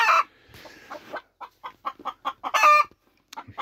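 Chickens overwintering inside a polytunnel cluck in a run of short, evenly spaced calls, with a couple of louder, fuller squawks breaking in, close and alone with no talking.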